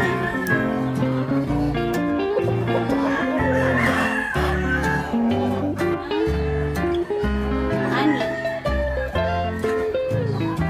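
Breeder chickens cluck and a rooster crows at a backyard poultry setup, loud and close, with overlapping bird calls filling the whole stretch and no talk.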